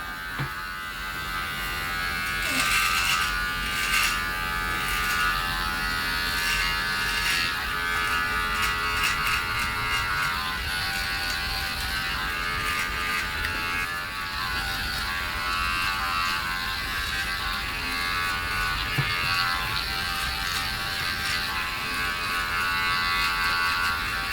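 A Manspot groin and body trimmer fitted with a 3mm comb buzzes steadily and close while cutting underarm hair, a continuous electric hum with brief scratchy surges as it passes over the skin.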